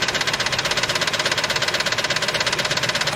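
Ford F150 engine running steadily after clearing water from the exhaust, a close, loud, rapid rhythmic knocking pulse over a broad rattling roar, constant throughout.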